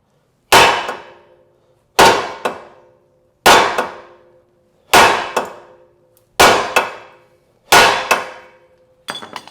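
Six hard, ringing metallic clangs, evenly spaced about a second and a half apart, come from a hammer striking a Honda Element suspension part up close, followed by a softer knock at the end.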